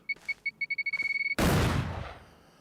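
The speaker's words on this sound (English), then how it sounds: "a more realistic explosion with the cartoon hedgehogs" A hedgehog mine blowing up in a cartoonish video game: a run of quick beeping chirps speeds up, then a loud noisy explosion bursts and decays over about a second.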